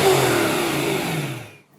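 A BMW E92 M3 with its 4-litre V8 revs hard, a loud, dense, rasping engine roar that holds steady and then drops away as the throttle closes, with no talking.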